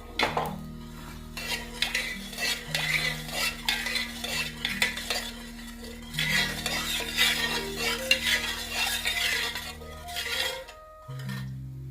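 Puffed rice is stirred in a salted clay pan (sora), making repeated scraping and rattling stirs against the earthenware with a light sizzle beneath. The sound is close, and nobody talks.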